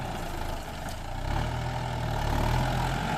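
Low, steady rumble of a Kubota M9540 tractor's diesel engine idling nearby, swelling slightly partway through, then settling into an even throb with no talk.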